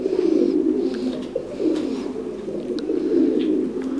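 Thai Titan meat pigeons coo continuously in a breeding farm in Dak Lak, a dense, overlapping chorus of low murmuring calls with occasional wing flutters and clicks, no talking.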